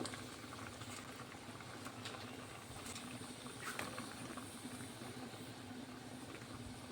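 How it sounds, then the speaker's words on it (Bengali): Fish curry gravy with eggplant boiling in a pot, a steady soft bubbling and patter throughout, fairly quiet and close, with no voices. "ঝোলটা ফুটে গেছে"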